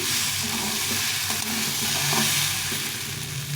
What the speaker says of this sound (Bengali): ডাল চাল দুটোকে ভালো করে একটু ভেজে নেব